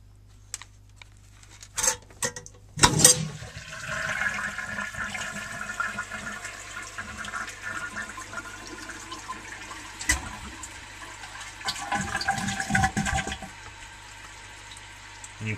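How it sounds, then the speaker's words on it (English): A 1952 Eljer Sylenta toilet flushes with a sharp clunk of the handle, then a steady rushing, gurgling wash of water that continues for several seconds before tapering off, with a low constant hum underneath. "and now let's flush the toilet."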